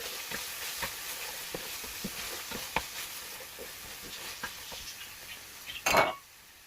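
Chop suey with chicken and oyster sauce stirred in a pan, giving a soft continuous sizzle with light, repeated scraping and clicks of a utensil against the pan and one louder clatter near the end.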